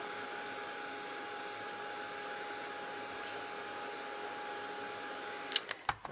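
A heat tool blows a steady, even whir while heating an embossed tile, running continuously and fairly quietly before a few brief clicks at the end.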